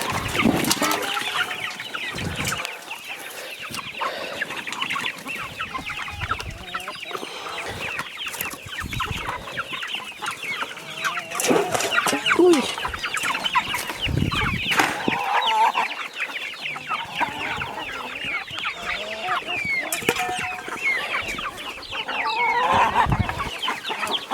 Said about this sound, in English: So I will give food scraps to the chickens and their mamas.